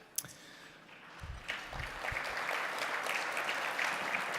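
Applause from a dinner audience at a press freedom awards gala, starting after a sharp knock and swelling into a steady, moderately distant wash of clapping that holds to the end.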